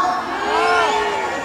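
A crowd at a 2013 town fair concert in Yecapixtla, Morelos, cheers and whistles loudly, a dense roar of shouts and whoops with rising tones, close and sustained throughout.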